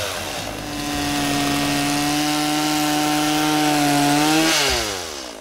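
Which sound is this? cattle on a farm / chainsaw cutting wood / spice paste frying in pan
chainsaw cutting wood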